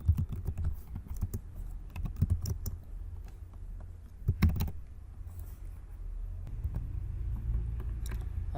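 Typing code on a computer keyboard, with clusters of quick clicking keystrokes that stop and start in bursts over a low background hum, close and fairly quiet.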